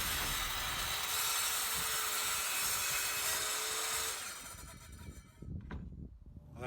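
A Kobalt compact 7-1/4-inch single bevel sliding compound miter saw cuts wood set against a temporary stop block. A loud, close, steady cutting roar lasts about four seconds, then the blade winds down, followed by a few clunks.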